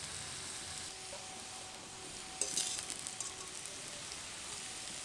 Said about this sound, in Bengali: ডুমুরটাকে একদম লালচে করে ভেজে নিয়েছি, এবার তুলে নেব